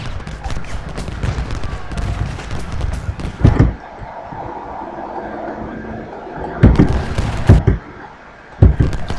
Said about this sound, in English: Oh, they're firing on us.